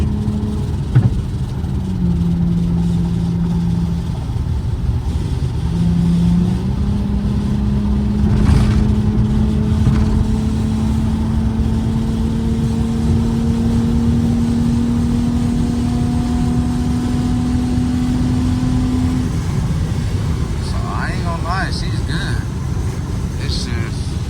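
A worn-spark-plug Infiniti G35 engine runs steadily and close by, its low drone rising slowly in pitch as if revving gently, with a brief bump partway through and faint background noise.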